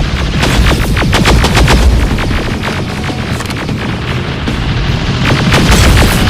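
Video-game combat in Terminator Resistance, with dense, loud gunfire bursts and heavy explosive booms rolling almost without pause, no voices.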